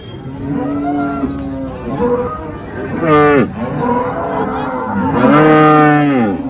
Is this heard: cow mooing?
yes